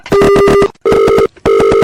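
A telephone ringback tone after a call is placed: three loud, buzzy electronic ring bursts separated by short gaps, heard up close and alone.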